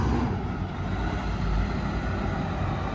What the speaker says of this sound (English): these trucks coming in and out because the fuel island wraps all the way around